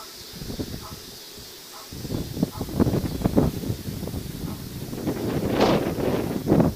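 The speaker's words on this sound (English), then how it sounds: "It's pretty windy today." Wind buffeting an outdoor microphone beside a 2013 Triumph Street Triple R motorcycle, a steady rushing roar with gusty low rumbles that build and surge toward the end.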